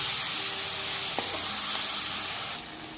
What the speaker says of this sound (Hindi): अदा रसुण पेस्ट टिके ऐड करदेवा। ऐड कर टिके फेंटीदेवा।